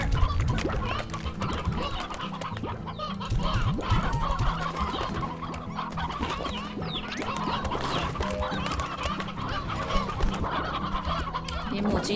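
A flock of hens in a video game clucks and squawks continuously, overlapping calls close and loud throughout, with no talking.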